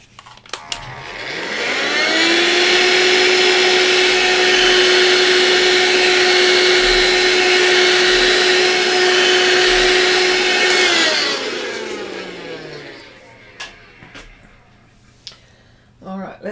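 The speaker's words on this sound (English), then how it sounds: "Let me just vacuum this bit here." A vacuum cleaner lifting pastel dust off a bougainvillea painting, its motor whining up to a steady loud hum for about ten seconds before winding down, with brief clicks around it.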